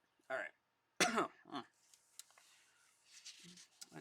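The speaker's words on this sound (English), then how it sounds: "I just got this damn cough." A person coughs and clears their throat a few times in quick bursts, close and fairly loud, followed by quieter rustling and handling noises.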